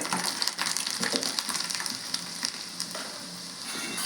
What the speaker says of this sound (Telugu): నేను ఎల్లిపాయలు వేస్తున్నాను